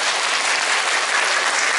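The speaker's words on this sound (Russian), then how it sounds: "Ваши аплодисменты." Loud, dense clapping from an audience at a library award ceremony, a continuous wash of hands with no pauses and no voices over it.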